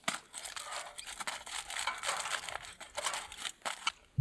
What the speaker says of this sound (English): I'm just gonna push down the foil at the back with this fire stick